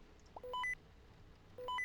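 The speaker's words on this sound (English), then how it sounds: "Oh, it's my phone. Or, my walkie." Electronic beeps from a phone or walkie-talkie in a haunted-forest park ranger video game: two short rising sequences of three clear tones, about a second apart, over a quiet hum.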